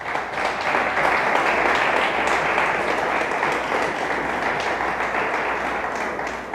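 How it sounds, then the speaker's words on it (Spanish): A church congregation applauding loudly and steadily for several seconds, dense clapping from many hands in a large room. "Dale fuerte el aplauso al Señor"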